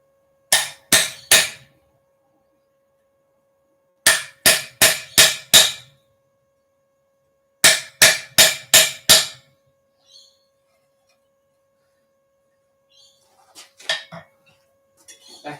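Railroad spike hammered on an anvil in three quick bursts of four or five ringing metallic blows each, loud and close, followed by quieter scattered clinks near the end.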